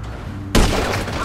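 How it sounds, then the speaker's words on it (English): A gunshot in Grand Theft Auto V goes off suddenly after a low ambient hum, a loud blast whose burst of noise and echo carries on through the rest of the short moment. "Now I'm taking a shot."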